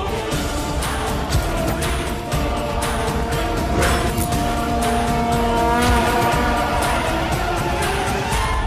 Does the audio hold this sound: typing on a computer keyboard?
no